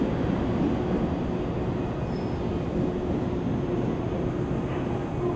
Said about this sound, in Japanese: まもなく2番線に列車が参ります。